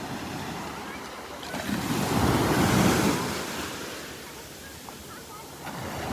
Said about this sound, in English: Love these waves.